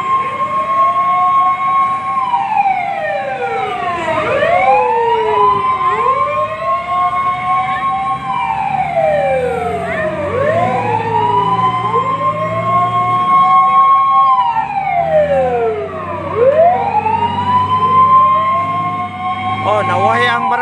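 Several fire truck sirens wail and overlap at a fire in T. Padilla, Cebu City, rising and falling in sweeping cycles, loud and continuous, with voices faintly beneath.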